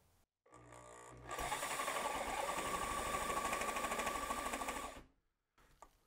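An old Boltr reciprocating saw runs hard while jammed in a cut, a loud, steady buzzing chatter lasting about four seconds after a brief start, then cutting out abruptly to near silence.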